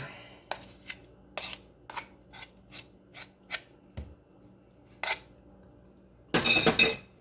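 Cheddar garlic biscuit dough is mixed by hand in a bowl, with a series of short separate scraping and tapping strokes at uneven intervals and a louder burst of rubbing near the end.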